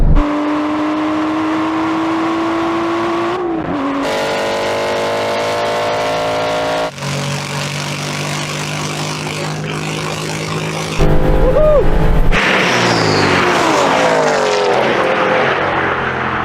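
Aston Martin race cars, a turbocharged car against a GT8, roar loudly through the gears in a drag race, engine pitch climbing and dropping with each shift before a harsher, louder surge near the end.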